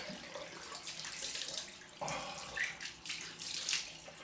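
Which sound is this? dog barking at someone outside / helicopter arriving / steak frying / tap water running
tap water running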